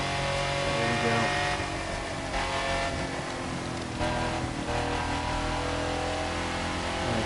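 Car cruising along in The Crew 2 racing game, a steady engine drone holding near-constant pitch throughout with slight swells, a voice talking over it at times.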